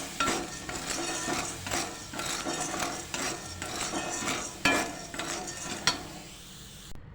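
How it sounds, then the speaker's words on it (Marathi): Chickpeas roast in a salted kadhai while a metal spatula stirs and scrapes them, producing repeated close rattling clinks over a soft dry sizzle. "छान असा हरभरा आपण भाजून घ्यायचं होतो"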